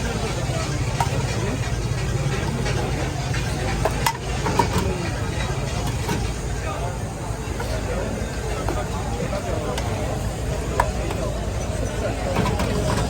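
Chicken fried rice sizzles and is stirred in a pan at an Indian roadside street food stall, a constant loud frying hiss with metallic scrapes and clanks, while voices and street bustle carry underneath.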